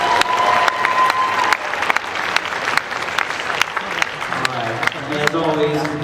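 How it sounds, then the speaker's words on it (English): A concert audience applauds a youth jazz ensemble, the All-Southern Jazz Ambassadors, with dense clapping and some crowd noise, while a voice begins speaking over it toward the end. "How about another round of applause for the Jazz Ambassadors?"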